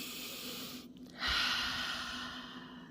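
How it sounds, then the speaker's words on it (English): One slow, deep breath drawn in close to the microphone, a soft airy swell that rises and then gently tapers away in a quiet room. "take a breath with me"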